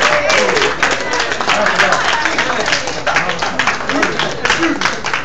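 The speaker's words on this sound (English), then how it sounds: "all of you that's really clapping is the dudes" An audience claps in a steady, dense burst of applause throughout, loud and close, with crowd noise mixed in and no clear break.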